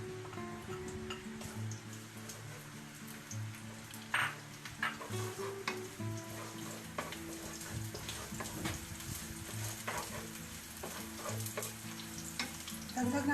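Garlic sautéing in a pan while cooking spaghetti: a continuous close sizzle and crackle with scattered stirring knocks and scrapes, steady throughout and free of talk.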